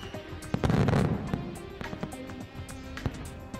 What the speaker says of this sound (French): ce n'est que le spectacle de feux d'artifice enchanté